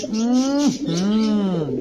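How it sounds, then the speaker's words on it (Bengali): Pigeons coo close by in two rising-and-falling calls, clear and fairly loud, with a soft background hiss and no other sounds mixed in. "কবুতরের কোয়ালিটিটা দেখেন ভাই।"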